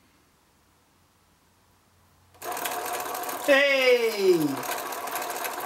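A homemade self-strumming guitar driven by a battery-powered motor through a potentiometer starts up after a silent lead-in, giving a steady mechanical whir with a sliding tonal sweep as strings sound; a brief shout is heard.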